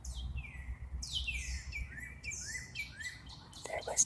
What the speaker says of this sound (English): Oh, there's a cardinal right there. Big, bright red cardinal.